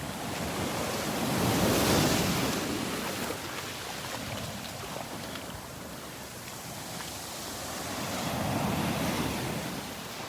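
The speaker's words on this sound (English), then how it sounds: "Some pretty good waves crashing in here." Ocean surf at a Gulf beach at Delnor-Wiggins, waves rolling in and crashing steadily, with two louder swells building and breaking, wind noise over the microphone and no talking.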